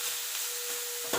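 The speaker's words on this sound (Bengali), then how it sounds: "বেগুনটা একটু ভাজা ভাজা করে নেবো" Eggplant frying in a pan, a short continuous bright sizzle with a light scrape near the end, no voices.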